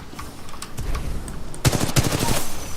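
Gunfire in the shooter Titanfall 2: scattered quieter shots at first, then a loud rapid automatic burst with sharp repeated cracks over the final second.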